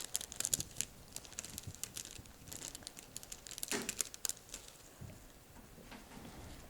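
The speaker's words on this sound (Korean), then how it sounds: "이거를 가위로요. 꽃송이 있는 데만 좀 잘라주세요." Scissors snip through flower stems of red blossoms and baby's-breath-like sprays, a scattered series of crisp cuts with rustling, crinkling stem and leaf handling, fairly close and quiet, with no talking.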